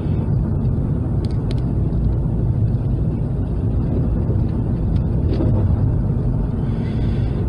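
A Honda car drives along a side road covered in a solid sheet of ice in winter weather, giving a steady, loud, continuous low rumble of engine and road noise with no break.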